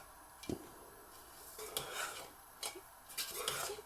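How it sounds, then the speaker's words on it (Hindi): Jaggery water being stirred with ginger powder, a few scattered scrapes and clinks of a spoon against a pot, faint and intermittent, with soft bursts of stirring in between. "इसको अच्छी तरह मिक्स कर लेंगे। अब इसमें ये जिंजर पाउडर, जो अदरक का सौंठ जिसको कहते हैं पाउडर, वो भी शामिल कर देंगे"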